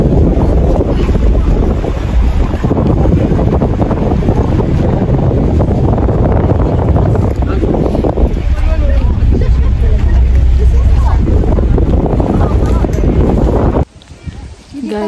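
Strong wind roars across the microphone aboard a boat crossing to Nami Island in heavy rain, a loud continuous buffeting rush with water and hull noise underneath that drops away abruptly near the end.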